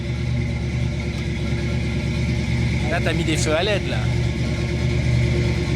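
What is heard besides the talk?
Ford Mustang V8 engine running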